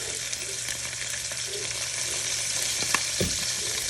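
Shrimp and minced garlic sizzling in olive oil in a frying pan for shrimp scampi, a constant close crackling fry with light utensil scrapes and a soft knock, no speech.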